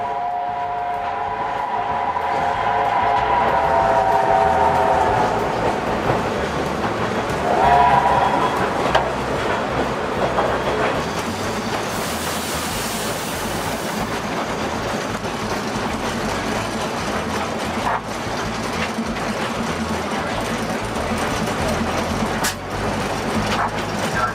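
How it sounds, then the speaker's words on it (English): A 1910 Alco steam locomotive hauls a Grand Canyon Railway train into the Grand Canyon park area, giving a loud, steady rumble with rhythmic wheel clatter and a brief horn-like tone near the start, with no talk over it. "The 1910 Alco locomotive is running with great ease as we enter the Grand Canyon Park area."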